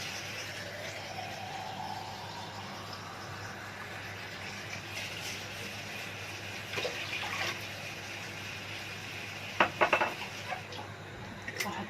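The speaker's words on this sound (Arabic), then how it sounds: "هزودها كوبايتين ميه." Two cups of water poured into a cooking pot in a home kitchen, a steady faint splashing stream with a few clinks of utensils against the pot toward the end.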